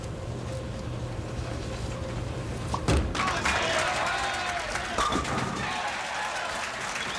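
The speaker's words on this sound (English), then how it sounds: "how the crowd starts going with their Duke, Duke, Duke." A bowling crowd at a 1996 Norm Duke versus Dave Arnold match cheers and chants for Duke, a steady broad roar of many voices with a louder swell and sharp bursts near the middle, then dying down.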